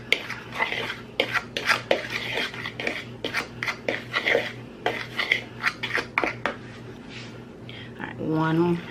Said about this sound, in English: All right, and we'll give this a stir.